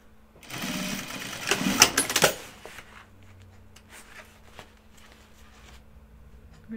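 A sewing machine runs in a short loud burst of rapid stitching, then quiets to softer clicks and handling noises, with a low steady hum underneath.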